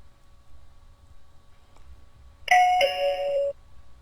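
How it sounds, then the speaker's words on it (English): An EVERSECU 2K wireless video doorbell chime plays one clear ding-dong, two bright tones about a second long, ringing loud and close in a quiet room. "we'll cut right into when I press the doorbell button"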